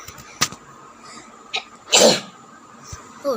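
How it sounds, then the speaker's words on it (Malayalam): An explosive sneeze-like cough bursts out nearby after a couple of small throat sounds, with light clatter and a quiet background around it. "ചുമ."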